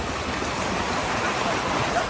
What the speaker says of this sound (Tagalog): Malakas din ang ragasan ng tubig sa ilog.